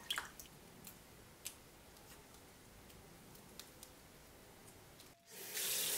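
Soaked fava beans are rinsed for falafel, with soft drips and wet squishes at first, then a tap bursts on and water gushes loudly and steadily in the final second.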